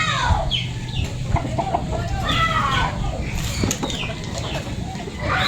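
Chickens, including bantams and free-roaming birds, cluck and chatter on a farm, several birds calling over one another amid constant outdoor background noise, with occasional crowing-like calls.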